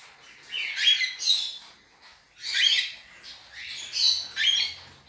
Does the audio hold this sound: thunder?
no